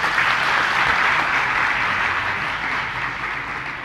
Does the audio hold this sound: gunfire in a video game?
no